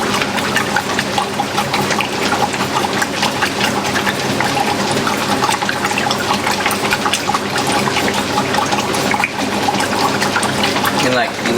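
Continuous churning and splashing of water sloshed by the finned agitator of a top-load washer, dense and steady throughout, fairly loud and close.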